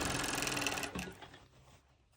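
Cover stitch sewing machine running steadily, a dense mechanical whir close by, then slowing and trailing off after about a second.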